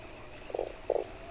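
A frog in the video game Fran Bow gives two short, low croaks about a third of a second apart, clear and mid-loud over a faint steady background hum.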